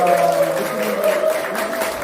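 An audience at a People Power Party provincial council candidate's greeting event in Chuncheon applauds, a loud, dense clapping that holds steady for about two seconds.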